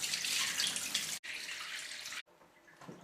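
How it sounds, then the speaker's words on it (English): Tap water runs steadily into a sink while lye-cured olives are rinsed, a hissing stream that cuts off briefly twice and resumes more faintly at the end. "You can start doing the rinsing of it, which is what we're going to do now."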